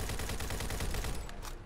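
Rapid bursts of AK-47 automatic fire from the video game Fallout 4, a loud, dense volley of shots rattling continuously for under two seconds before tapering off.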